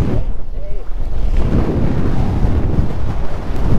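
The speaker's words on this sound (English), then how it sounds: "it got super windy" Strong coastal wind on Padre Island near Corpus Christi buffets the microphone in loud, gusty roars, with surf and water noise churning underneath.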